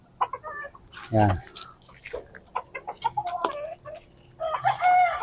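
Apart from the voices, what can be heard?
hens clucking on a Texas chicken farm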